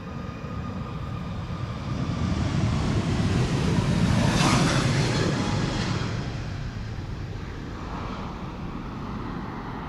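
JetBlue jet taking off from the Polderbaan runway 36L at Amsterdam Schiphol, bound for New York; a broad, distant engine rumble swells to a peak midway and then slowly fades as the aircraft climbs away.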